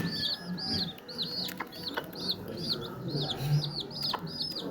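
Peruvidai country chicks feeding on millet at a rural farm, with a flock giving rapid, repeated high peeping chirps, close and fairly loud, over low background murmur and scattered knocks.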